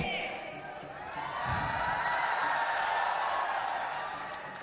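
Audience at an appointment letter ceremony applauding and cheering, a broad crowd roar that swells after the first second and holds steady before easing off slightly, with some voices in the mix.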